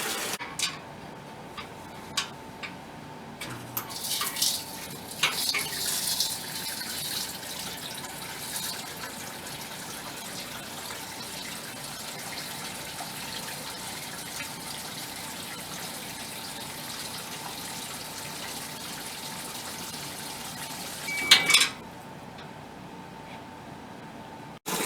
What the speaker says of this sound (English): I'm going to put my end of my hose into my bucket, and now we hit the dispense button.